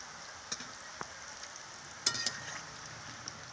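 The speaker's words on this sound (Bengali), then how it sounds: "মায়ের দেখো রস পিঠে, ভাজা পিঠে সব করছে মেয়ের জন্য" Pitha rice cakes frying in oil in a pan, a faint steady sizzle with a few sharp pops and crackles, quiet and without talk.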